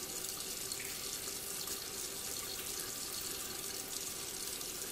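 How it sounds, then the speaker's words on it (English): Steady, loud rush of water from a leaking sink faucet, a continuous hissing spray that holds unbroken and close throughout, with no voices. "Should I shut off the water again right now?"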